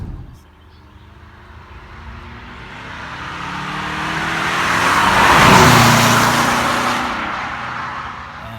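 A car engine revs up as it accelerates, growing louder to a roaring peak near the end before easing off slightly.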